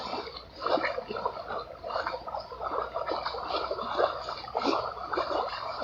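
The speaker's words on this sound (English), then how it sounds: "the water lapping up against the river edge." Gentle water lapping against a river edge, soft continuous splashes and ripples in a steady, close wash with no voices.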